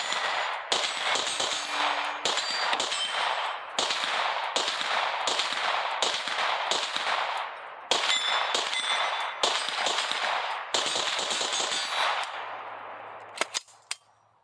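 A New Frontier Armory C5 ARP fires long, loud strings of rapid shots in repeated bursts separated by short pauses, with a few single shots and metallic clinks as the firing ends.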